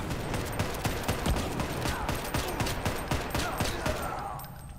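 Rapid bursts of video-game gunfire, including laser rifle shots, crackle through a busy sci-fi survival battle in Farworld Pioneers, with sharp repeated reports layered densely over several seconds.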